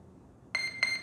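Two short electronic startup beeps come from the electronics of a ZOHD Alpha Strike 620mm RC plane, clear, close tones spaced under a second apart after a brief quiet moment.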